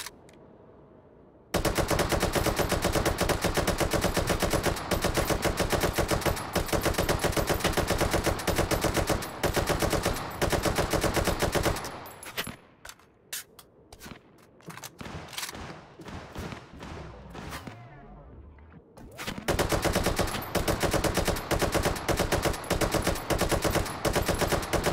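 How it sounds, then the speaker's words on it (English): Long, loud bursts of rapid automatic suppressing fire in the VR shooter Hot Dogs, Horseshoes & Hand Grenades. Sustained firing gives way to a quieter stretch of scattered shots and echo, then heavy continuous fire resumes. No one speaks. "Just lay down some suppressing fire right there."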